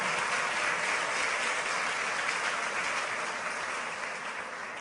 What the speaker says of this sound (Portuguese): Vamos agradecer a Jesus por isso com uma forte salva de palmas